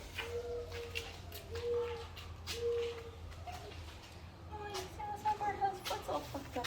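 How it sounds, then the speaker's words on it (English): Birds calling at the Maine Wildlife Park, a small zoo in Maine: repeated short tonal calls and clucking cries come at a moderate distance over steady low background hum, with brief faint voices nearby. "You can hear the peacocks."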